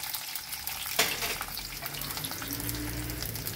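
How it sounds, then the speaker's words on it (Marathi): Cashews frying in a pan, a steady, fairly quiet broadband sizzle with one brief clatter near the start, continuing evenly with no talk. "काजू थोडेसे लाल होऊन द्यायचे।"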